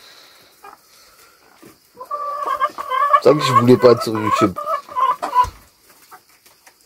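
Hens cluck and squawk in a busy, close-up flurry of calls, with someone talking over and between them.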